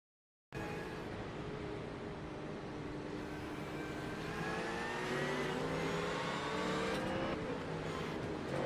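A Porsche engine in a racing video game accelerates hard, a loud continuous roar with rising harmonic tones climbing as it revs through gears, close and alone without talk.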